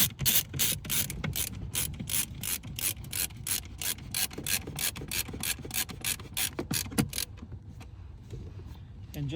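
Large Phillips head screws being driven into the rear HVAC control console panel of a 2008–2009 Hummer H2, a rapid run of ratcheting, grinding clicks that stops near the end, close and loud.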